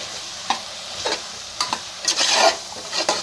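Dry biryani powder, garam masala, egg powder, chilli powder and turmeric stirred in a pan, with irregular scraping strokes and short bursts of light sizzle, close and alone without speech.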